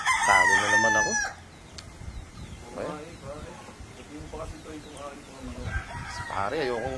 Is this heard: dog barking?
no